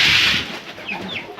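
Chickens at feeding time cluck and chirp in a brief burst, close by and moderately loud, with short, bright calls overlapping over about a second and a half.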